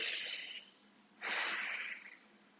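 Close, audible breathing during a workout: a long hissing exhale, a short pause, then another full breath drawn through the nose and mouth, with no talking.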